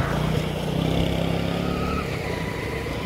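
A motorcycle engine runs steadily close by, a dense continuous drone with no talk over it.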